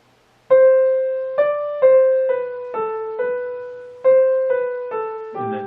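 Piano plays a short passage from Bach's Minuet in G Major, a series of clear single notes struck one after another at a moderate, even pace, close and ringing with no talk.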